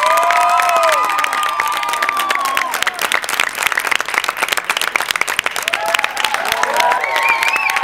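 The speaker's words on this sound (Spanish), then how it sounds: "¡un fuerte aplauso!" An audience applauds two arts students at an event: loud, steady clapping from a large crowd with some cheering, sustained throughout, while music or tones ring over it.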